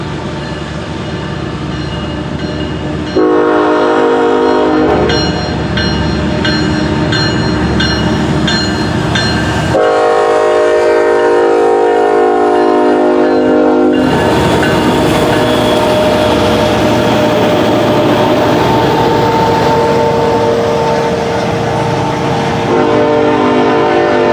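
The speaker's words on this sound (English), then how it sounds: "Interstate 8105 is a GE ES44AC built in 2012, and Norfolk Southern 1114" Freight train passing loud and close with a GE ES44AC locomotive in Interstate livery, horn blasts sounding over steady rumble and rail noise for the whole span, without any talk.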